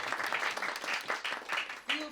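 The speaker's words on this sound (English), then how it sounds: "when the applause sign lights up like this" A theater audience at a Christmas stage show applauds, with choppy, uneven bursts of clapping and a voice speaking over part of it.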